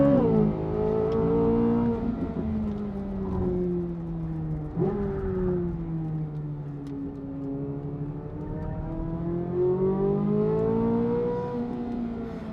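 A Corvette Z06 engine is driven hard on a race track, giving a loud, continuous harmonic drone that rises and falls in pitch as it accelerates and lifts, heard steadily and without speech.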